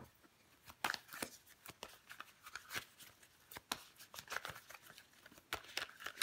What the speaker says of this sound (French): Je vais couvrir des cartes.